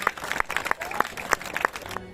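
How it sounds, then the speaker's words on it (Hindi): Audience at a Chitragupta Puja cultural program clapping for a teacher invited on stage: scattered, uneven claps with loud individual hits over a busy background, voices mixed in, ending abruptly. "इनके लिए भी एक बार जोरदार ताली।"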